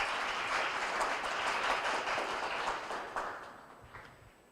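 Audience applause at an award ceremony for an innovative entrepreneur prize, a dense sustained clapping from a large crowd that gradually thins and fades out.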